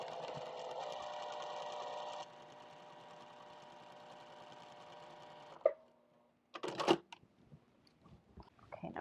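A sewing machine stitches a fabric seam for a strap key fob, running steadily for several seconds, then slowing, followed by a few sharp handling clicks and knocks after a brief pause.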